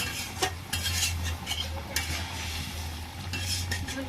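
Village-style meat curry boiling in a pot while a utensil stirs it, with repeated scraping and clinking of metal against the pan over a steady low bubbling simmer, close and moderately loud, no voices.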